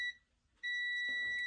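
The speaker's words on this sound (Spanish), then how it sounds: "cuando ponemos las puntas, tiene que darles un bip" Continuity beep from a multimeter as its probes touch the connector pins of a Samsung VRT front-load washing machine under repair: a steady high electronic tone that starts abruptly, with clicks and handling noise near the end.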